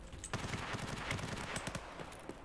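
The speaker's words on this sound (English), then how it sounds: "Gunshots really loud to my right." Rapid bursts of gunfire crackle in Escape from Tarkov, several quick shots in a row, fairly loud against a busy background.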